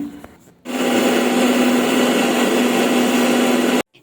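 A mixer grinder grinding ginger, garlic and green chillies into a paste runs loudly and steadily for several seconds with a constant whining hum, then cuts off abruptly.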